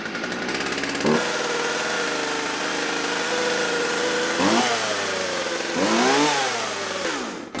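A nearly out-of-gas chainsaw engine runs close by at a high, buzzing idle, its pitch swooping up and down in a few brief revs before settling back.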